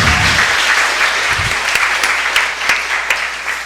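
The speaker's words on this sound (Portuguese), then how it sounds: "que houvesse uma salva de palmas para o aluno Lorenzo André Alves e Beatriz Rausch, ganhadores da UBMEP" Loud, sustained applause fills a children's council session, honoring students who won mathematics olympiad medals. A thick, continuous roar of many hands stays steady, then tapers slightly, with a few sharper claps near the end and no speech.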